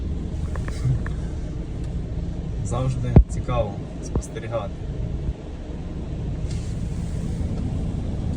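Automatic car wash running on a Mercedes Vito W639 in France, a steady low rumble and wash noise with a few sharp knocks and spray bursts mid-clip, heard from inside the van while a person talks.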